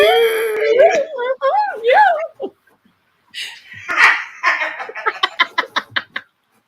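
A dog gives a run of whimpering, yipping barks, first a wavering whine-like vocal and then a quick series of short sharp yips, close and fairly loud.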